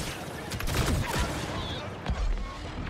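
Gunfire from a Star Wars Battlefront II online battle, with bursts of shots and blasts layered over a busy, constant mix of game noise, close and fairly loud throughout.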